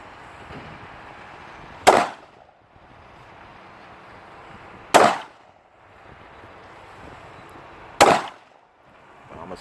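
Three sharp gunshots crack at a firearms range in Nassau, Bahamas, evenly spaced about three seconds apart, each loud and close with a short echo, separated by quiet wind-like background noise.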